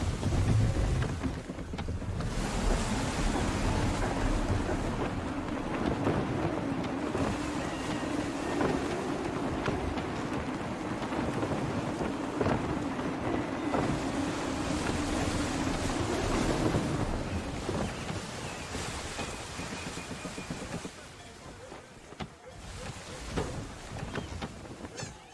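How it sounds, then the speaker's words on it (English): Wind and waves surround a sailing ship at full sail in Assassin's Creed III, a steady, loud, broadband rush with low rumbling swells, fading slightly near the end. "Gusty winds can be difficult to manage."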